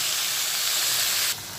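Water poured into a pan of frying vegetables, long beans among them, gives a loud, steady steam hiss that fills the whole moment and drops off sharply near the end, close up and with no voices.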